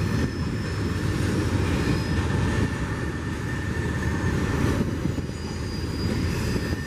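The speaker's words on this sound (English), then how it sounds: "The train's very loud." A loud train rumbles past at close range, a steady heavy roar of wheels on rails with faint metallic squeal, no voices.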